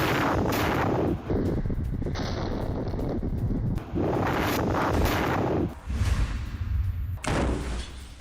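Explosions and gunfire from an attack on a military tank in a combat zone, with heavy booming blasts and dense crackling fire running nearly continuously, loud and close, punctuated by several sharp thuds and brief lulls.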